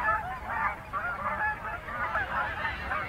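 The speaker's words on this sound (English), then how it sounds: "Pintails, mallards, American widgeons, hundreds, thousands of them are all over the place out there." Large flocks of waterfowl, including pintails, mallards and American widgeons, give a steady chorus of overlapping honks and calls from a distance, continuous and moderately loud with no talk.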